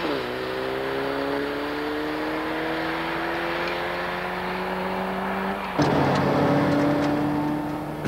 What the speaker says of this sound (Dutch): Ver doortrekken in de toeren en snel schakelen levert een pittige acceleratie op.